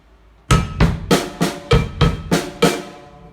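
A drum kit groove with cowbell, heard as seven evenly spaced, loud, close percussive hits with bright ringing decay, played alone without talk.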